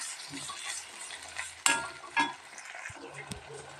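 Tomatoes and onions frying with a little rock salt for a mixed chutney, a steady close sizzle broken by sharp spoon scrapes and stirring clatter against the pan.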